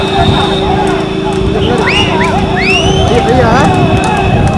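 Horses in a Tamil village race near Puthukudi, a 16 km rekla cart race, pass with steady hoof-clatter and a whinny under a continuous hum, crowd noise and a loud announcer's voice.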